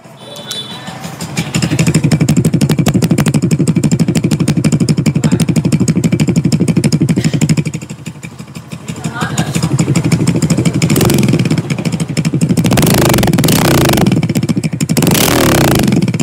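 A Honda Win 140cc motorcycle with a Detech engine and exhaust runs close and loud, a steady crisp, throaty exhaust popping with a brief dip in revs mid-way and sharper blips of throttle near the end.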